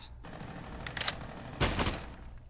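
Gunfire in the mobile tactical shooter Rainbow Six Mobile: a busy run of rapid automatic shots in bursts over a steady background of game noise, moderately loud and continuous.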